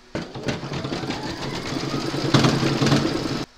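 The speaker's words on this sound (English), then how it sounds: "Pop your hoop into your machine and stitch round number four" An embroidery machine stitches a round of a free-standing lace poppy. A steady, rapid mechanical whirring and needle chatter starts abruptly, runs for about three seconds and then stops. It is close and loud, with no talking.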